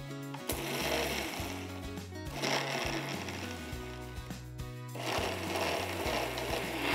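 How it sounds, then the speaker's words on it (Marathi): A mixer grinder whirs loudly, blending yogurt and crushed peanut chutney in bursts, with short pauses between running spells. "मिक्सरला फिरवल्यामुळे एकदम स्मूथ होते ही चटणी"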